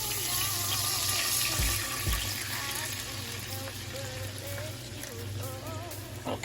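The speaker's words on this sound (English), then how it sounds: "we are about to pour in 1 cup of the chicken broth" Chicken broth pours into a hot pan with oil while making Salisbury steak, a steady close splashing, trickling flow with faint sizzle and low kitchen hum running throughout.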